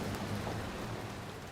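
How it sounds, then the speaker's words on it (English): Light rain tip-tapping steadily on a street and an open umbrella, a soft continuous patter at moderate distance, heard alone. "He opens his umbrella against the tip-tapping rain"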